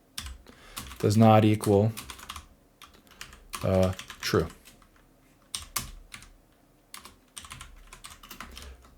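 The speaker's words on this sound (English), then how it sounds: "Man, I'm having a hard time typing here today." Computer keyboard typing in scattered bursts of clicks, heard close up between stretches of someone talking during a software coding session.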